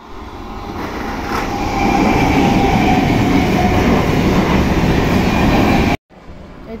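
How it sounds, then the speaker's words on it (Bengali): A train coming in from Sealdah pulls into a station, its loud, steady rumble swelling in the first two seconds and holding close and heavy before cutting off abruptly, with no voices. "আর ট্রেন আসছে শিয়ালদা থেকে।"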